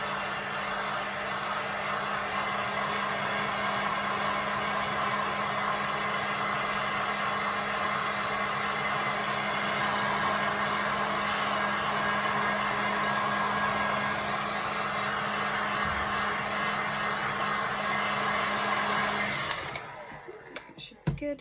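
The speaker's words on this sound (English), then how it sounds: "just heat gun again." A heat gun blows steadily on a silicone doll head, a loud, constant whirring roar with a low motor hum that runs unbroken for about twenty seconds before cutting off, followed by a few faint handling knocks.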